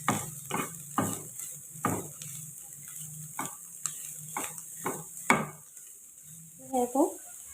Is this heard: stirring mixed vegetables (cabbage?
yes